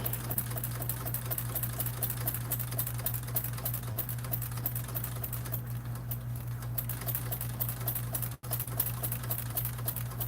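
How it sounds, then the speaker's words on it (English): A sewing machine top stitching a Swoon Maisie bag runs at a slow, steady pace, giving a continuous close mechanical hum with a fine repetitive needle clatter and one brief pause near the end. "just take your time, sew very slowly"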